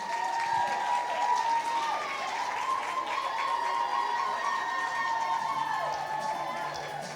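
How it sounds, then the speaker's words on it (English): Applause from an audience at a women-in-print panel event, clapping blended with crowd noise and some cheering, continuous at moderate level. "Round of applause for Pam."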